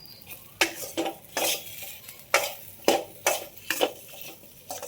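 Okra being fried and turned in a pan gives sharp, irregular scraping strokes of a spatula against metal, close and loud, over a faint sizzle, with no voices.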